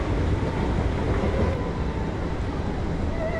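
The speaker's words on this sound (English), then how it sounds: "Trains." Steady, loud rumble of a passing train fills the whole stretch, a continuous broadband roar without breaks and without any talk over it.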